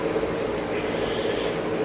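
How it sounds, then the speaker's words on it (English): An electric fan runs steadily in a warm room at night, a continuous broadband whirring hum that holds even and unchanging throughout. "if you hear a weird sound in the background, that's my fan on"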